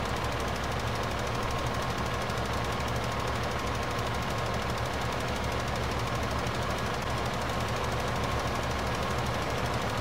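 A tractor engine in Farming Simulator 15 chugs in a steady, loud, rapid knocking drone that holds constant without a break.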